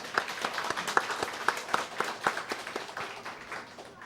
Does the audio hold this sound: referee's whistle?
no